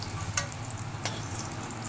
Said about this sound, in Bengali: কুমড়োটাও আমার হালকা নরম করে আর লালচে করে ভাজা হয়ে গেছে